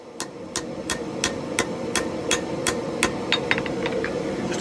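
Blacksmith's hammer strikes forge-welding a railroad spike meat cleaver ring out in a steady series of about a dozen sharp, evenly spaced blows, the last few quicker and lighter, over a constant low roar of the forge fire.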